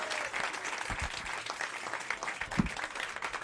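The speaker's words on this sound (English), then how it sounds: "Everybody give a warm round of applause for Chris Bongat." An audience at a stand-up comedy show at Zanies in Chicago applauds steadily with dense clapping and a few cheers, a warm crowd sound filling the room.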